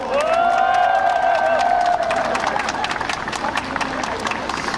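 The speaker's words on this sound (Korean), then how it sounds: "성원의 박수 한번 보내주십시오" A crowd of supporters at a Sejong election rally claps and cheers loudly, a whistle-like whoop rising over dense applause early on before steady clapping carries on.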